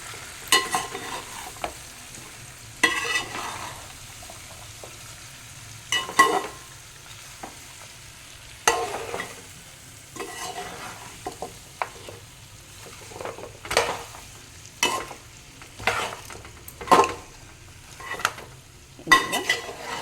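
Mutton paya curry fries in a pan with repeated stirring, spoon scrapes clattering against the metal in irregular bursts over a constant low sizzle, close and fairly loud with no talking.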